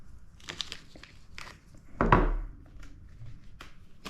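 A single sharp crunching snip cuts through a thin strip of metal used for connecting cells in a 6S lithium-ion battery pack, framed by faint rustling handling noises close by.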